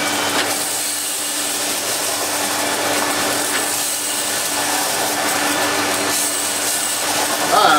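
A worn Electrolux 345 Automatic cylinder vacuum cleaner pulls straight suction through its hose, a loud, steady, close motor whoosh with a hissing airflow that holds level from start to end.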